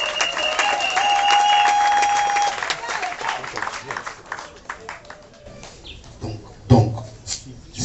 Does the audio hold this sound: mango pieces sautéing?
no